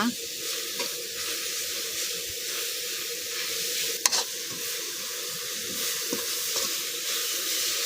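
Shredded coconut and melting sugar are stir-fried in a pan, a steady soft sizzle under repeated scraping strokes of the spatula, with one sharp clank partway through and no speech.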